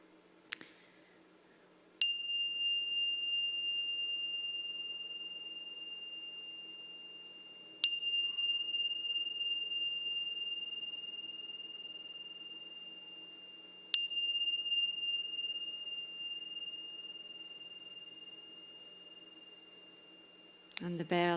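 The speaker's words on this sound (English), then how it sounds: "So now I'm going to invite the bell." A bell at a devotional service is struck three times, several seconds apart. Each clear, ringing tone sustains and slowly fades in a quiet room, with a faint rustle at the end.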